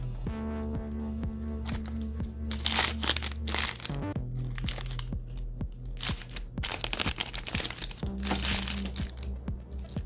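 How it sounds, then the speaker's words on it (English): Thin plastic packaging crinkles and crunches as it is slid off a Vera Wang Barbie doll, in repeated close rustling bursts with sharp crackles over a steady low background hum. "So once the seam is out, just pull that off and start to slide your plastic down."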